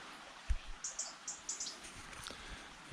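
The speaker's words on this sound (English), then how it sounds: "And you can hear a little bird there" A small bird chirps near a stream among riparian trees and vines, a quick series of short, high chirps spread across a few seconds, close but fairly soft over a faint outdoor background with no talk.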